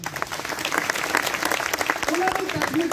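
A group applauds a team that held meetings, in a government-employee announcement setting, with dense, steady clapping throughout as a voice talks over it.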